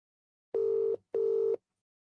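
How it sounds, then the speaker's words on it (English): A phone line rings out in two steady, even tones, each about half a second long with a short gap between, clean and alone with no voices. "It's ringing."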